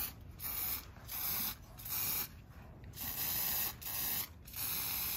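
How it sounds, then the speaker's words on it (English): Aerosol spray paint can hissing onto a windsurf board in a series of bursts, each roughly half a second to a second long with short gaps, close and steady, slightly sputtery, with no voices. "The spray pattern's only that wide and it's kind of throwing a few big drops"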